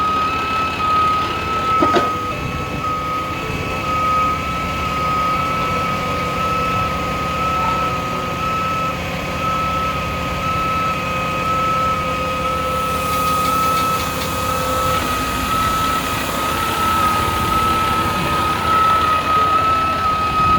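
Sutphen SPH 100 aerial fire truck running its jacks to lift the front end, a heavy engine droning steadily with a high electronic tone and mechanical whine throughout, loud and continuous, with no speech.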